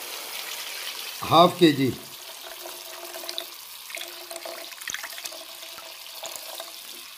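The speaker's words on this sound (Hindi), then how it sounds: "अब मैं इसके अंदर ये पानी डाल रहा हूँ" Water is poured into a cooking pot while making shahi moti pulao, a short, loud splashing gush of about a second, followed by someone talking over faint kitchen sounds.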